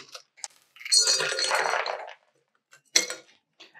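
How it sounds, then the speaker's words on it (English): Ice cubes tumble into a glass for a kids' mocktail with a loud rattling clatter lasting about a second, followed by a few sharp single clinks as stray cubes drop, close up and without speech. "It helps if the ice goes in the glass, but you know, you be you."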